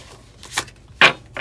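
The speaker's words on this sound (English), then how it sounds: "That was not a great shuffle." Tarot cards being shuffled by hand: three short papery riffling bursts, the middle one loudest, close up with no voice.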